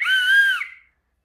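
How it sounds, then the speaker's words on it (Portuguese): An emergency whistle from a survival backpack gives one loud, shrill, steady blast of about two-thirds of a second, then cuts off into silence. "E ele apita."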